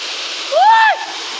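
Steady broadband rush of a waterfall at a picnic spot in Odisha, continuous throughout, with a brief rising and falling voice-like tone cutting in over it midway.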